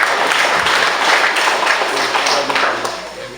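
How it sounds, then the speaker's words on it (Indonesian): Dense applause from an audience at a parliamentary member's constituency recess visit, a loud, continuous wash of many hands clapping that slowly tapers off. "Tepuk tangan buat dia."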